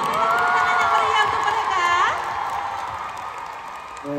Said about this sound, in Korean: 여러분 박수 많이 쳐주세요.